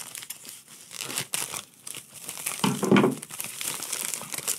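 A package being opened and cut with scissors, with dense crinkling and tearing of plastic wrapping throughout, a louder crunching burst midway, close and loud with no talking.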